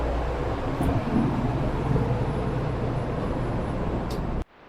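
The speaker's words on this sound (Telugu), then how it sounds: "సో ప్రస్తుతం మనం జపాన్స్ బుల్లెట్ ట్రైన్లో ఉన్నామండి" Inside a Japanese bullet train in Kyushu: a steady, dense low rumble and rushing hiss of the moving carriage, constant and enveloping, with faint high whines, cutting off abruptly near the end.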